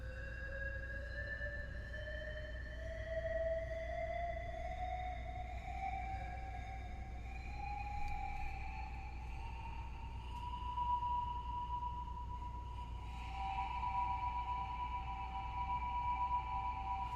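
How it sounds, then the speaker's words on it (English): A homemade capacitive touch electronic instrument sounding sustained, gliding tones that rise slowly in pitch with harmonics, over a steady low hum of interference, a shift to a new note near the end. "when you touch it, each one of these represents an independent note"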